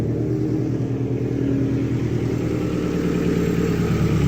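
A Toyota AE86 GTS 20-valve 4A-GE engine runs at a steady idle, a continuous even rumble with a regular pulsing beat heard up close.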